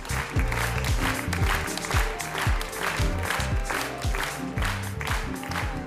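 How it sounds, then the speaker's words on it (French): Crowd claps and cheers during a fashion show, with a loud rhythmic beat of music pumping underneath the steady applause. "Les mannequins prennent du plaisir sous les nombreux applaudissements."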